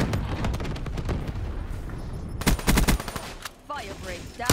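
Heavy video game gunfire roars continuously, with dense automatic bursts and thudding blasts that swell louder toward the end. A voice and a radio-style chirp cut through briefly near the close.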